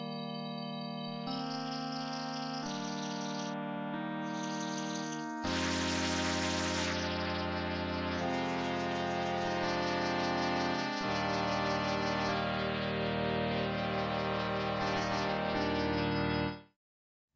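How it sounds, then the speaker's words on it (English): An Augmented Series 2 harmonic engine using additive synthesis from up to 512 sine wave partials plays bright, synthetic layered tones, steady and loud, shifting timbre in stages and thickening into a fuller sound partway through before ending abruptly. "The harmonic engine takes a completely different approach, using additive synthesis to build sounds from up to 512 sine wave partials."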